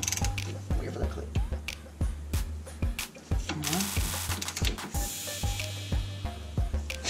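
A torque wrench set to 40 pounds ratchets on brake hardware, giving a long series of evenly spaced sharp mechanical clicks, close and moderately loud, with faint background noise.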